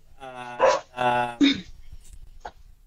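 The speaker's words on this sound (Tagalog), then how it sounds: "patahimikin ko muna tong aso na ito. Maingay." Dog barking indoors during a live-streamed talk: three loud, close barks in quick succession, followed by faint background noise.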